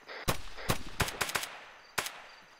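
Gunfire in an Arma 3 zombie mission: about six sharp, loud reports in an irregular burst, several close together then one more after a pause, with no talk.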